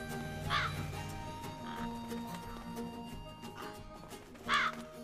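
A bird calls in a film scene, two harsh caw-like cries about four seconds apart, the second louder, over a quiet bed of background music.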